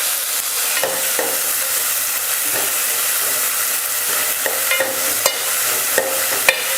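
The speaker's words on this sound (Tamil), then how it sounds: "வெங்காயம் நல்லா வதங்கட்டும்." Chopped big onions sauté in hot oil in a pan with dried red chillies for sambar, a continuous close sizzle and hiss with occasional scraping stirs.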